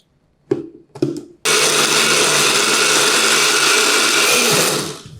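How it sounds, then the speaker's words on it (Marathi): A mixer grinder blends grated coconut with hot water: two short pulses, then a loud, continuous whirring run that holds steady for several seconds before winding down. "उरलेलं खोबरं पुन्हा मिक्सरच्या भांड्यामध्ये घेऊयात"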